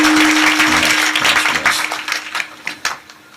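An audience at a kirtan claps for the singers and musicians, a burst of applause that thins into scattered individual claps as it fades, with a steady sustained tone beneath.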